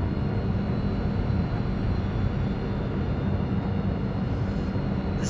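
Star Citizen spaceship thrusters at full power: a loud, steady, broadband roaring rush that holds even and unbroken throughout, with no speech.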